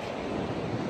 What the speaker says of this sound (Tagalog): Ang alon ngayon.